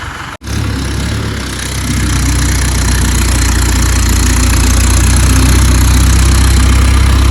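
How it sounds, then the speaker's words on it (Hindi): A car engine runs loud and close, holding a steady low idle with a rough, knocking edge and a slight rise in pitch, no voices over it. "रेस दे ले रेस।"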